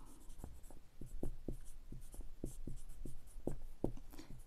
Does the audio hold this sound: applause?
no